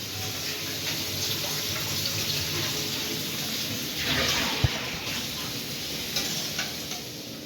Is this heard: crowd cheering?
no